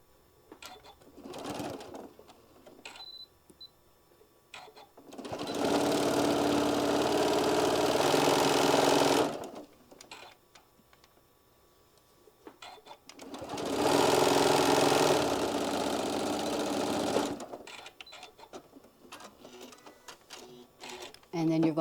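A sewing machine running two long bursts of stitching along a quarter-inch seam on a drawstring bag piece, a steady mechanical whir separated by pauses with someone talking between runs.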